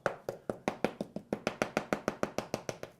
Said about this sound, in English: So if you knock, it seems quite solid, but knock. See, I can tell, see how the sound's different